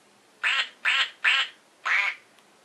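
A toy duck hand puppet gives four loud, close, nasal quacks in quick succession, with a longer pause before the last one, against otherwise quiet surroundings.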